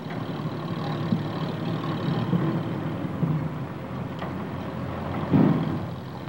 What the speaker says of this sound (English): the convoy moves out.